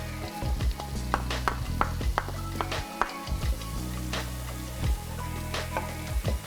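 Shallots fry in a pot for seafood gumbo, a steady close sizzle broken by scraping stirs and clinks of a utensil against the pot, with no talking.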